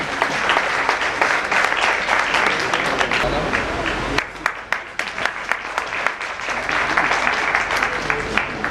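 Audience applause at an Ekta Diwas 2013 event, a dense, steady roar of many hands clapping throughout, dipping briefly midway then swelling again with sharper individual claps.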